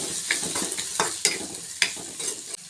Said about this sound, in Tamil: நல்லா கலரி விட்டுக்கலாங்க.